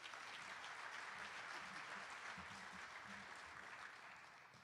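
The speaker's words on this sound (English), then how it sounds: "everybody, a round of applause for Guy Boston and his team" An audience at a business breakfast event applauds in a steady, dense wash of clapping that fades slightly toward the end.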